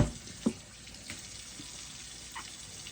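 Tap water running steadily into a sink in a house on a well, a soft continuous hiss with a few faint splashes and clinks, close but quiet.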